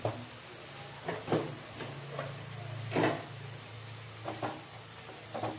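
Food frying in oil after sugar is added, a faint steady sizzle with scattered soft bursts and stirring scrapes under a low hum, fairly close.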